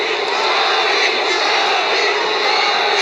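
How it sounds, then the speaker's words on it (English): Boxing fans at the Nico Ali Walsh vs Kittisak Klinson bout chanting for Ali, a dense, sustained crowd roar filling the arena without pause. "The fans are shouting, Ali, Ali."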